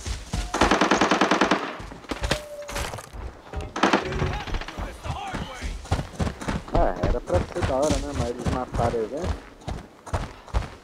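Rapid automatic gunfire in the Arena Breakout shooter game, a loud sustained burst followed by scattered shots and footsteps, with someone talking over much of it.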